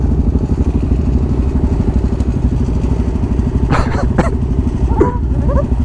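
Motorcycle idling at a fast-food drive-through, a steady low engine throb running throughout, with a few brief clattery noises and faint chirpy sounds near the end.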